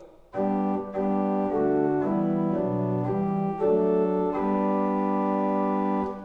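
A church pipe organ plays a slow sequence of sustained chords on a single clear, round 8-foot principal stop, steady and full in tone.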